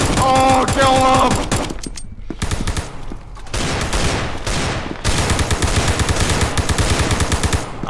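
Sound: gunfire in a video game (SCP)

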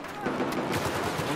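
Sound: pistol gunfire in video game Battlefield 4

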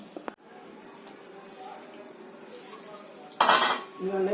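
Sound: eggplant and broad bean pieces frying in hot oil

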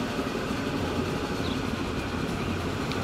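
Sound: electric train in the video game Transport Fever

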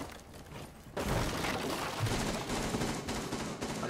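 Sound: gunfire in video game Rainbow Six Siege

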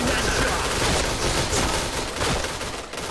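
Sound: STG44 gunfire in the Point Blank video game

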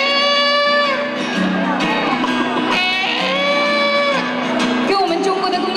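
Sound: audience imitating a rooster crowing

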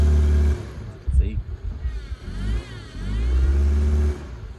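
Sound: car engine revving, spinning its tires in soft sand

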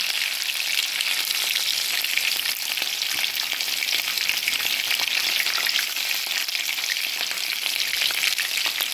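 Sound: cumin and pepper frying in oil

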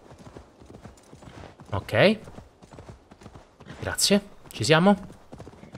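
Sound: horse hooves galloping in video game Assassin's Creed Valhalla

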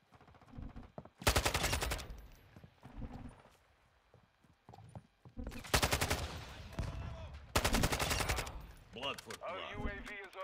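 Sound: gunfire in a video game

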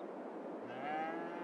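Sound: cattle mooing in a cattle pen, from video game Farming Simulator 22

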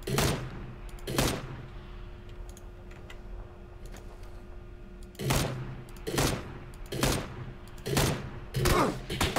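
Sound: gunshots in the video game PUBG

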